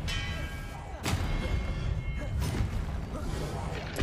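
Confringo fire-spell blasts in the Hogwarts Legacy video game: two sharp explosive thuds, the first near one second and the second about two and a half seconds in, over a steady game background.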